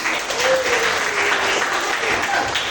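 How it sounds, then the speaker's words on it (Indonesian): Students in a classroom applaud a classmate, a dense wash of hand clapping with faint voices mixed underneath, steady and moderately loud throughout. "iya, tepuk tangan dulu Mbak"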